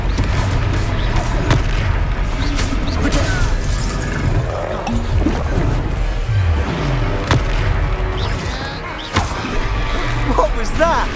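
Booming blasts and crashes from a Confringo fire spell ring out repeatedly during a troll fight in the game Hogwarts Legacy, loud and dense, with voices shouting over the battle.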